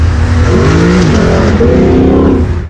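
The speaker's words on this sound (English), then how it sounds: "that amazing engine note" A loud, close 2018 Lexus LC 500 sports coupe engine revs hard, its pitch climbing and shifting aggressively through a short burst.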